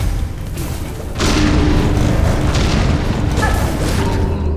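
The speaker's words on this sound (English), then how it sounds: "Man, those bombs are rough." Bomb explosions in Hollow Knight: Silksong as dense rumbling booms that swell suddenly and hold as a loud, continuous roar with layered blasts over a few seconds, with no voices.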